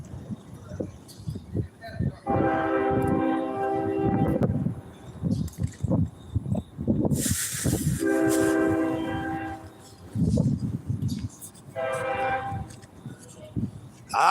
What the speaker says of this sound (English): I hear the train coming. It's rolling down the tracks.